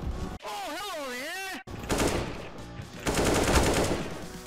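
Gunfire in the video game CS:GO: a warbling electronic tone gives way to dense bursts of rapid shots and sprays that grow louder toward the end, with some voice mixed in.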